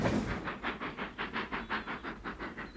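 A steam locomotive built in 1923, the first to reach 100 miles an hour, chuffs along the rails in quick, even exhaust beats, about five per second, heard from a modest distance with a hissing wash beneath.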